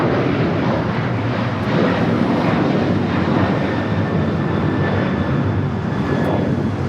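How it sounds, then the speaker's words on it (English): A Delta Air Lines Boeing 737-900ER takes off from Los Angeles airport, a loud, sustained, rumbling jet roar with faint whining tones, steady throughout with no voices. "1875 taking off to Los Cabos on the 737-900ER"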